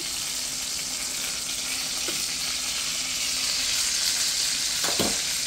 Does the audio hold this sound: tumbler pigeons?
no